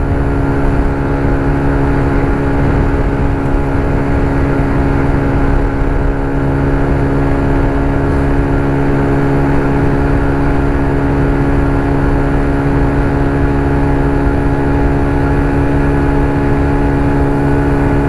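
A TVS XL100 moped cruising at around 60 on a highway during a Ladakh ride, with a loud, steady, buzzing single-cylinder drone and constant rushing wind that stays level throughout.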